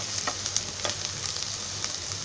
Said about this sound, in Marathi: कांदा चांगला तेलामध्ये असा फिरवून घ्यायचा